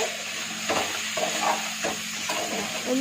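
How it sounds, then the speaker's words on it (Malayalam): Drumstick curry being stirred in a pan over steady sizzling, with a spoon scraping the pan in repeated strokes every half second or so, close and moderately loud, no talking. "എല്ലാം കൂടി ഇട്ട് ഇളക്കി കൊടുക്കുന്നുണ്ട്"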